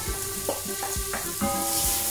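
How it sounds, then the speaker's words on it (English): Onions and garlic fry in olive oil for a ratatouille sauce, a constant close hiss broken by several quick rhythmic scrapes of a utensil against the pan. "we will fry the onions and garlic"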